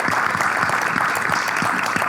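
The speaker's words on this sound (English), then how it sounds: "if you could give yourselves a round of applause" A conference audience at Dublin City University claps in sustained, even applause filling the room, with no voices over it.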